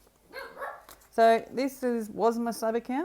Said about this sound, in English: Excuse the puppy dog there.